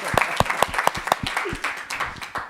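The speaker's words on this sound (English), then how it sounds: "And everybody, round of applause" A small group at an awards ceremony claps for prize winners with crisp, close, separate claps in a fairly regular rhythm, a light murmur of speech underneath.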